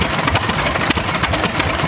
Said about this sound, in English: It says a 1929 Palmer Marine engine. ZR2 18 horse.